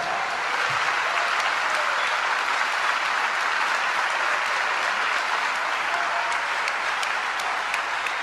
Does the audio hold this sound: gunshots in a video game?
no